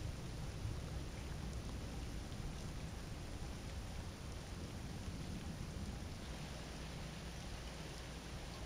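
Rain in the video game Voices of the Void falls as a dense, steady hiss with a low rumble underneath, constant and fairly loud throughout, with no voices.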